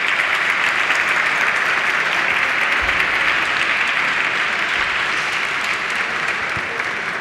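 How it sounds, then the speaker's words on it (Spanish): Loud, sustained applause from an audience at a CyberOlympics awards ceremony, many people clapping at once in a thick, unbroken roar from start to finish. "Fuerte el aplauso para ellas."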